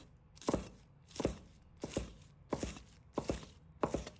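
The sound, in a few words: knife chopping scallions into short pieces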